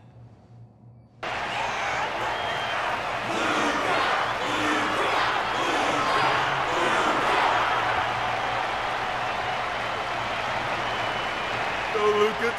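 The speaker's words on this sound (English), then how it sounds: "Their constant applause is a salute to this resilient Balabagian fighter." An arena crowd in the Honkai: Star Rail video game breaks into sustained, loud applause and cheering that starts abruptly and keeps going steadily, with faint voices mixed in.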